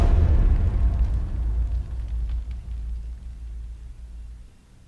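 A massive explosion from the Just Cause 3 open-world action game booms out, its deep rumbling blast loud at first and then slowly rolling away and fading over several seconds.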